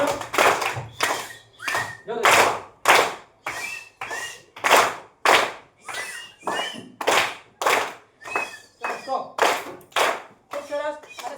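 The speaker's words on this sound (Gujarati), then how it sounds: "આ ત્રણે બહેનો માટે આપણે ત્રણ વાર એરોપ્લેન તાળી પાડીશું" A group of people claps an 'airplane clap' three times in honour of three women at a government school event, with rhythmic bursts of claps close by and a brief spoken cue.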